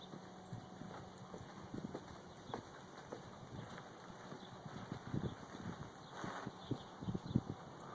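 A horse walks at an unhurried pace, hooves clip-clopping softly and steadily against a low background of wind and distant engine hum.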